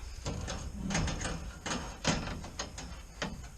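A homemade sliding door on a chicken house converted from an outhouse is pushed shut, giving several short wooden knocks and scrapes at close range in a quiet setting.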